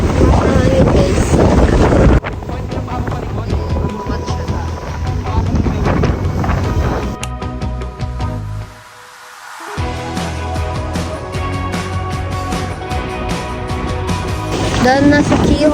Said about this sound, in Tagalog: Ay! Hangin guys.